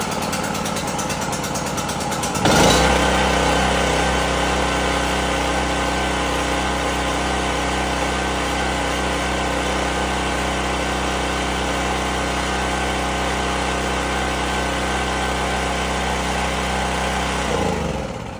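A small Honda engine, just repaired with its spark plug refitted, starts up after about two seconds of quiet and then runs at a steady, loud idle until shortly before the end.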